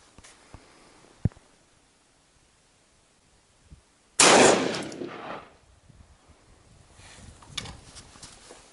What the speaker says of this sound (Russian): Для статистики лупим второй патрон.